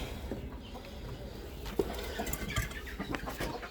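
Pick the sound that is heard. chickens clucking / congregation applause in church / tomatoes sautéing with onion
chickens clucking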